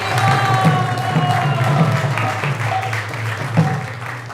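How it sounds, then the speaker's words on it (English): Steady applause from an audience at a temple gathering, a continuous wash of many hands clapping at moderate distance, with a sustained hum and faint tonal sound underneath. "let's give a big round of applause to everyone who has joined us tonight"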